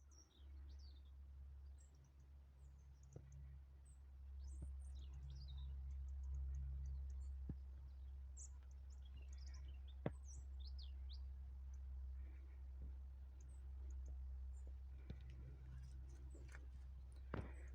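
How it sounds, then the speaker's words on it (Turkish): Faint, scattered bird chirps and tweets sound at a distance in a garden over a low background hum, with occasional soft clicks. "Kuş seslerini dinlettim size."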